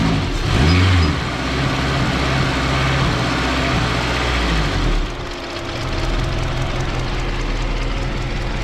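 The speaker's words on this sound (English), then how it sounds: "Very low idle because no outer air control valve, and the engine is completely cold" A cold K20 turbo engine idles in a Civic wagon with no idle air control valve, holding a very low idle: a steady, close, loud rumble that dips briefly midway, then settles back.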